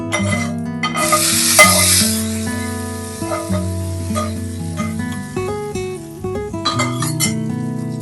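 A peanut chutney has a hot tempering stirred into it, with a brief sizzle and spoon scraping near the start and soft stirring throughout, mostly under steady background music.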